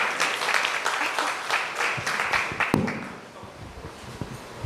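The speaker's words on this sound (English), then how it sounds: "a round of applause" Audience applause at a city week reception with cocktails, a dense patter of many hands clapping that fades after about three seconds into quieter room noise, with a few scattered taps.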